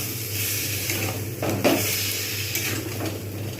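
Spices stirred and sizzling in a pan while cooking potato dum with capsicum: a steady frying hiss with a few scraping clinks of the spoon against the pan, close by and with no talking.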